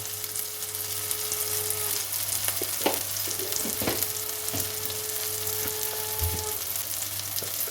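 Spices sizzle in hot oil with melted tomato for chicken mince with peas: turmeric, chili powder, Kashmiri chili, cumin and coriander powder. A steady close frying hiss runs throughout, broken by a few scraping stirs of a spoon against the pan.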